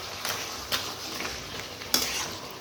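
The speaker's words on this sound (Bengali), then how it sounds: "মাছের মাথাটা দিয়ে একসঙ্গে এবার কষাবো" A fish head and pumpkin pieces being sautéed together in a pan, with a soft continuous sizzle broken by several distinct scrapes and knocks of a spatula against the metal, no speech.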